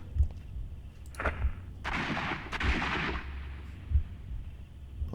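Gunshots sound in the Sherlock Holmes: Crimes & Punishments video game, four dull thumping shots at uneven intervals over a muffled, noisy in-game background.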